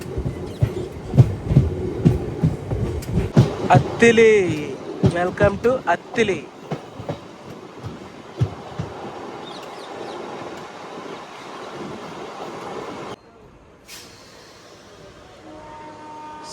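A MEMU passenger train, number 67283, runs between Bhimavaram Junction and Nidadavolu near Attili, its steady rumble and rhythmic wheel clatter heard from on board while someone speaks over it and a station announcement is heard.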